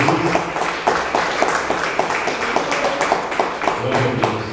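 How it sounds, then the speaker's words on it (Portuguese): A church congregation claps steadily through a dense wash of sound from the worship hall, giving a quick, regular rhythm of hand claps throughout. "Vamos dar uma salva de palmas"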